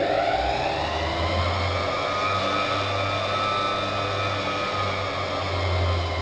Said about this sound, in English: we will connect this to the system, which will immediately make my pump start.